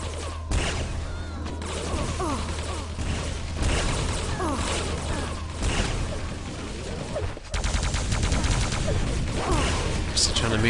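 Weapon fire from a railgun and rocket launcher in a competitive arena shooter match, heard as dense, overlapping bursts and blasts with whooshes and crashes running steadily under continuous commentary.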